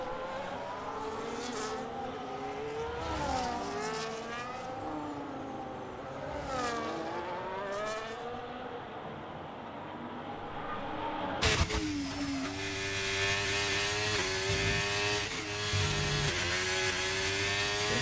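F1 race cars lapping the Qatar circuit in the F1 2025 video game, high-pitched engines rising and falling through gear changes, then one car sharply closer and louder for a sustained high whine.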